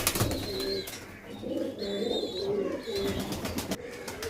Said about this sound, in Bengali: এই হচ্ছে আমার বাড়ির একদম পুরো লাস্টের সব থেকে সেরা পেয়ার, বাড়ির শেষ পেয়ার, কালমুয়ে পায়রা।